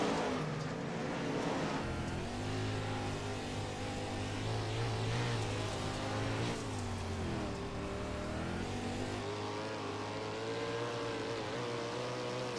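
410 sprint cars racing at Limaland Motorsports Park in a racing sim, a loud continuous blend of several engines droning and revving, pitches rising and falling as cars battle side by side.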